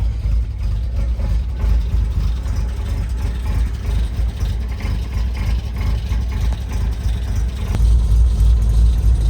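A Volvo 240 that sat unused for about two months idles right after starting, a steady low engine rumble running loud and continuous throughout with a slight swell near the end.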